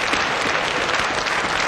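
A church congregation gives warm applause to welcome the speaker, dense and steady clapping filling the room without pause.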